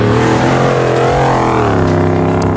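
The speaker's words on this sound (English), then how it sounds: "He's got a trophy truck exhaust on that thing" Ford Raptor truck fitted with a trophy truck exhaust revving hard at the Texas Raptor Run start line, a loud, close, continuous engine roar with rising and falling pitch throughout.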